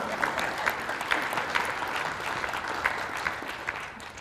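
Applause from an audience at a faith-based community gathering, steady moderate clapping with scattered sharper claps standing out, continuing evenly throughout.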